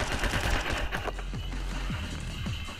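Rapid bursts of gunfire from the side-scrolling action game My Friend Pedro, sharp repeated shots crackling fairly loud and dense throughout with no talking.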